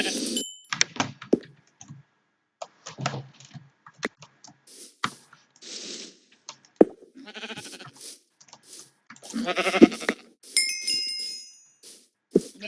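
Sheep in a video game bleat in several short, separate bursts, with some bleats close and fairly loud. Keyboard clicks and brief bits of voice fall in between.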